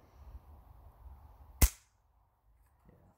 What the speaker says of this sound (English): Only one more shot.